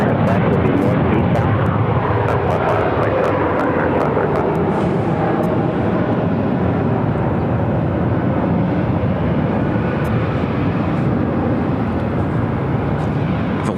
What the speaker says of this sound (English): 737-900ER will be the next takeoff